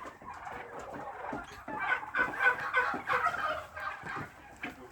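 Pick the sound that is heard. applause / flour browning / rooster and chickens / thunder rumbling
rooster and chickens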